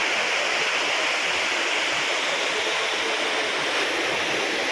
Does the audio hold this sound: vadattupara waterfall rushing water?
yes